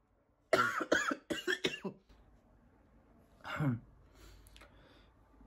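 Several sharp coughs from a person with COVID-19 in a quick cluster, close and loud, followed by a quieter pause and one more rough cough or throat-clearing.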